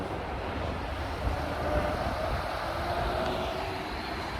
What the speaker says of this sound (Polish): O, jedzie tramwaj.